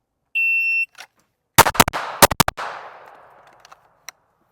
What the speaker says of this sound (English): we're gonna do a couple of rounds with this beautiful RXM